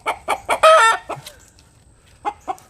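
Cranky backyard chickens clucking and squawking in a coop, a quick run of close, loud clucks and one harsh, drawn-out cry, then a pause before two more short clucks, with no talking.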